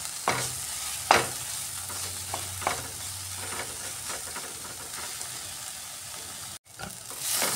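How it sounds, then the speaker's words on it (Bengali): Chana masala and spices for an omelette curry frying in a pan: a continuous close sizzle broken by repeated scraping stirs, with a brief dropout near the end and no talking. "মশলাটা একটু সময় নিয়ে আমি কষাচ্ছি।"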